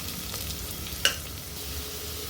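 Chopped onions and curry leaves sauté in a pan for vada curry, giving an even sizzling hiss with one sharp utensil clink near the middle, close and steady.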